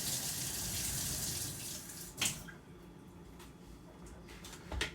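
Water runs steadily from a tap while coffee equipment is rinsed, a close, even stream that stops after about two seconds, followed by a few faint splashes and drips.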